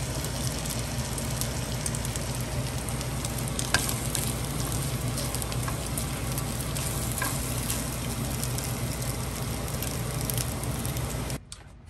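Daphne's beef and lamb gyro slices fry in a pan with a steady, dense sizzle that stays loud and unbroken for the whole stretch, then cuts off abruptly near the end; no voices.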